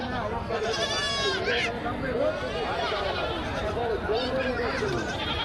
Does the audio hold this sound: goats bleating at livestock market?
yes